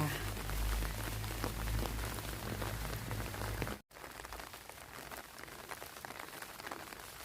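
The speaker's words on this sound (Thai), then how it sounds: "วันนี้ฝนตก บรรยากาศหน้านอนค่ะ" Rain falls steadily over a Thai vegetable garden in Hungary, a constant dense patter and hiss, with a brief cut halfway through and slightly quieter rain after it.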